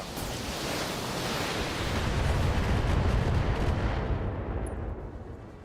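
A Battletech mech opening fire in the video game, a dense sustained roar of weapon blasts that swells to a peak midway, then tapers off toward the end.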